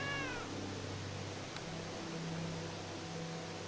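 A black cat in the Neverwinter Nights game gives a single short meow at the start over a steady hiss of background noise, followed by a faint low hum.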